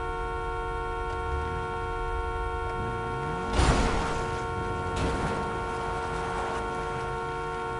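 A car horn in GTA 5 Online blares in a steady sustained tone over the game's background sounds, with a brief louder burst partway through.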